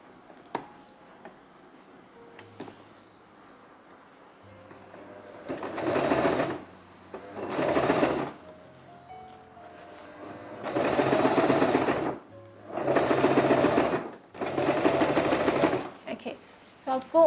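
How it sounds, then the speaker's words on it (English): A domestic sewing machine stitching bias tape onto a kaftan dress in short repeated bursts of rapid motor whirring and needle clatter, close and fairly loud, with quiet pauses and handling noises between runs. "tuck the bias tape inwards and sew again"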